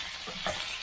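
Lambs' liver and onions sizzle in a pan as they are stirred, a short close burst of frying with a brief scrape of stirring in the middle.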